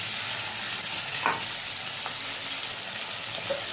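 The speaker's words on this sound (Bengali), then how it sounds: "আলুগুলো একটুখানি বেশি ভাজা হয়ে গেছে" Potatoes fry in a pan, slightly overdone, with a steady close sizzle broken by a few distinct scraping stirs of a spoon against the pan.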